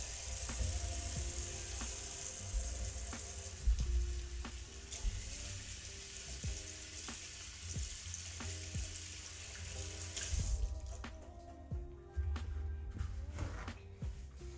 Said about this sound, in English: I'm going to start by giving my hands a wash